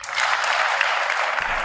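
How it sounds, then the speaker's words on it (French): Applause at a union gathering celebrating a trade union anniversary: a dense, loud crowd clapping continuously, alone and steady. "Je voudrais qu'ensemble, nous fassions un tonnerre d'applaudissements pour ce magnifique rassemblement."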